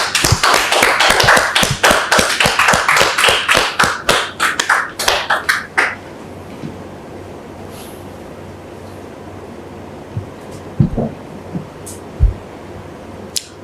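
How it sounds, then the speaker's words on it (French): Audience clapping to welcome a guest onto a French-language talk show stage, a run of sharp rhythmic claps for about six seconds that stops abruptly, followed by quiet room tone with a few faint knocks. "Est-ce qu'on peut la recevoir sous vos applaudissements"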